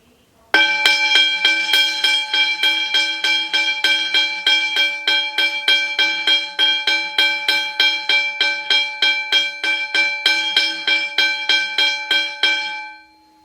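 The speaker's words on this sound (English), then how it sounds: "here's a quick demonstration of the bell ringing with my rail tie" A Westinghouse second generation hybrid locomotive bell, struck from the side with a rail tie, rings loudly and steadily in a fast, even series of metallic clangs for about twelve seconds before stopping abruptly.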